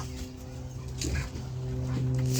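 Dogs whimper and yip in short bursts over outdoor background noise, with some movement, no talking.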